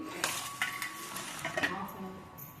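Utensil clinks against a bowl as a marinade with lemon is mixed, with a few sharp taps and scraping sounds, close and moderately loud.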